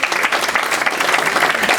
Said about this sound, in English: let's give a great round of applause